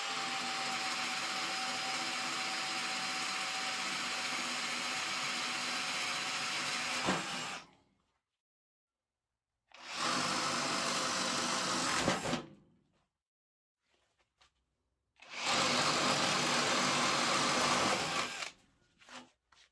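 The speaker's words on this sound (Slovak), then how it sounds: "Takže priemer 20 mm prvá rýchlosť." A Metabo SB 18 LTX BL cordless impact drill bores a 20 mm hole in first speed, running in three loud, steady bursts with near-silent pauses between them and no talk.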